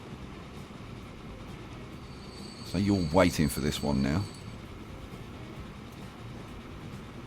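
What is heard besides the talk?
new train passing, from the video game Transport Fever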